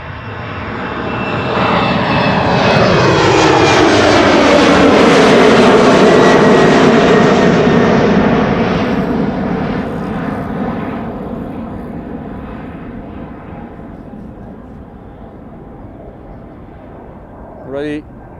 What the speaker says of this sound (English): KLM Flight 913 going to Aberdeen. Embraer 190 SkyMT livery.